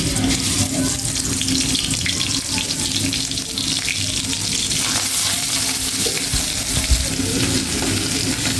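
Steady, loud sizzling and crackling of small koi fish frying in hot mustard oil in a wok, continuous hiss throughout with no voices.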